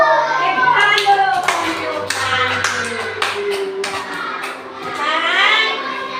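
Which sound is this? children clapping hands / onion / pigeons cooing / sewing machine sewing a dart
children clapping hands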